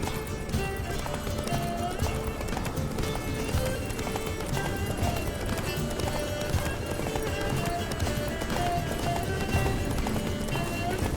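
Roach, the horse in The Witcher 3, galloping with a fast, continuous drumming of hooves over a dense game soundscape, loud and sustained throughout, with occasional voices in the mix.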